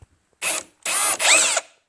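Power drill bores holes in a 2005 BMW X5 E53 4.8is while fitting a Dinan cold air intake, three short close whirring bursts rising in pitch, the last two nearly back to back.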